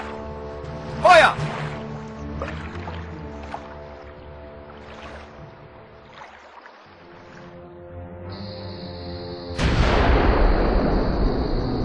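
A naval gun fires on command in a German-language war film: after a stretch of low rumbling ambience with voices, one loud, close blast cuts in near the end, followed by a broad, sustained roar under a high tonal whine.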